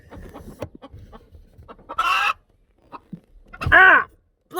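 A chicken kept in a cage clucks softly, then lets out two loud, harsh squawks amid rustling and handling noises close by.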